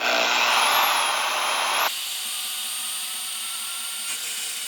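A Harbor Freight band saw on a bench mount makes a test cut through small rectangular steel tubing: a loud, harsh grinding whine lasting about two seconds, then a quieter steady hum of the running saw.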